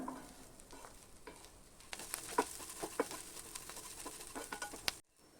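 Grated coconut being stirred into an ash gourd peel stir-fry in a pan, a steady soft sizzle with scraping spoon strokes and a few sharper clinks, close and moderately loud, no talking.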